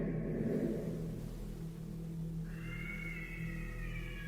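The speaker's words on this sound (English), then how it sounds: "There's a cat." A cat meows once partway through, a drawn-out tonal cry rising over a low, steady rumbling background.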